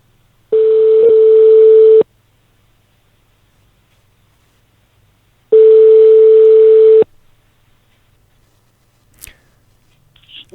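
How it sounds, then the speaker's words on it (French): A telephone rings out twice on an outgoing call to a radio listener, two long, loud steady tones separated by a few seconds of silence, followed by faint small clicks. "Donc on l'appelle tout de suite en espérant qu'elle va répondre."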